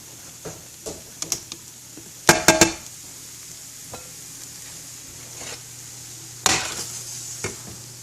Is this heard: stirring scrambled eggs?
yes